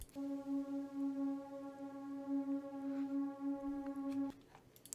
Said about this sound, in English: We then have this long drone note that just rings throughout the track.